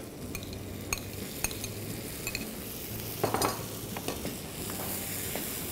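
Ginger-garlic paste frying in a pan for a masala parotta filling, a soft continuous sizzle with occasional clicks of a spoon stirring against the pan, fairly quiet throughout.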